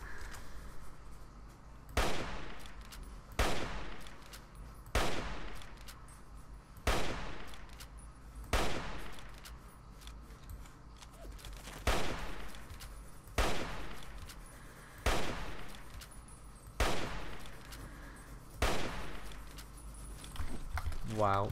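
Laser rifle or hunting rifle shots in the Fallout video game, a steady series of about a dozen sharp cracks spaced roughly every one to two seconds, each ringing briefly over a low background.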